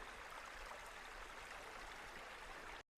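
Water in a Tasmanian bush stream near Cradle Mountain flows steadily under a forest canopy, a constant close rushing wash that runs alone without pause before cutting out abruptly near the end.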